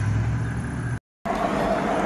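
A Mercedes G500 G-Class pulls away with a steady engine and road rumble, broken by a brief total dropout mid-clip before the vehicle noise resumes.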